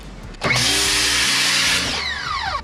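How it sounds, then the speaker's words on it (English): A pressure washer sprays a screen printing screen from about two inches away. After a quiet start, a loud, harsh hiss holds steady for about one and a half seconds, then dips as the motor note falls away. "So get yourself a pressure washer if you're doing it."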